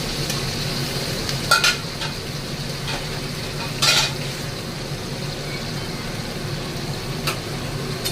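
Mutton frying slowly in a covered pan for kosha, a continuous sizzle with occasional spatula scrapes and light metallic clinks, steady and fairly close.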